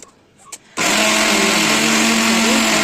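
After a few faint clicks, a mixer grinder starts abruptly and runs at a loud, steady whine, blending cooked, cooled tomato chutney with a little water.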